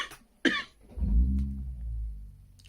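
One person coughs close by, a sharp burst followed by a lower, rough throat sound, with quiet gaps around it and no talking.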